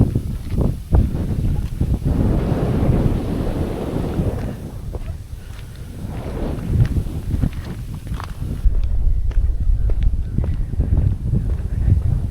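Wind gusting across an open hilltop viewpoint at Vellanikkal Paramukal near Trivandrum, a steady broad rush buffeting the microphone for the whole stretch, with occasional footsteps and faint rustles underneath.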